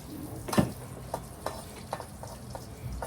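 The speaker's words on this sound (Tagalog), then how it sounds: "Magluluto tayo ng bagoong ni Dars" Bagoong shrimp paste cooks in a pan, a soft frying sizzle with a handful of light, evenly spaced stirring scrapes and taps, fairly quiet and with no voices.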